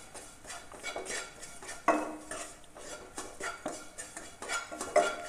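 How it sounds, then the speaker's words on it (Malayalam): Spice powders roast in a pan while a metal spoon scrapes and clinks against it in irregular strokes, close and fairly quiet, with little sizzle and no talking. "പൊടികൾ ജസ്റ്റ് ഒന്ന് പച്ചമണം മാറണ വരെ മൂപ്പിച്ചെടുക്കുക"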